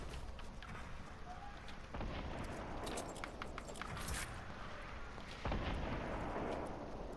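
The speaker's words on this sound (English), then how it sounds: "Gunshots, 285." Fortnite gunfire plays as faint, scattered bursts of shots and explosions over a steady game background.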